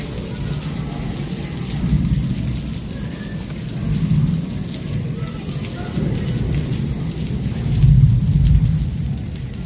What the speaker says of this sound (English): there's still thundering and lightning